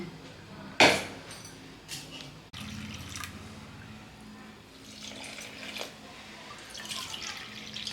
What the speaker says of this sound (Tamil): இதில் வந்து ரெண்டு கப் அளவு தண்ணி ஊற்றுறேன்